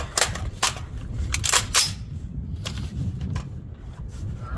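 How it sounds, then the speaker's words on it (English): .308 battle rifle shots fired at a target ring out as several sharp cracks in quick succession, followed by a quieter stretch. "So let's do 5 shots, same target."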